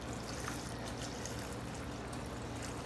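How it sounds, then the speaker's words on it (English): Filtered water pours steadily from an emptied tomato can into an Instant Pot of chicken soup, a soft continuous trickle and splash lasting several seconds at low volume. "I took that can of tomatoes and filled it with filtered water"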